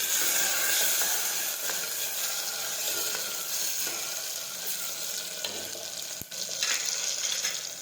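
Chopped tomatoes and onion sautéing in a pan, a continuous close sizzle with light stirring and a brief clink near the end, steady and unbroken by speech.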